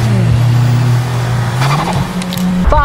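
Mazda with a V6 engine revving hard in a tunnel, a loud sustained roar whose pitch climbs and falls, close and alone.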